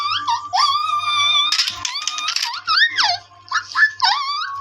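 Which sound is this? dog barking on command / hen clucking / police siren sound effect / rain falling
dog barking on command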